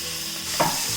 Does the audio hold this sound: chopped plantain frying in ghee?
yes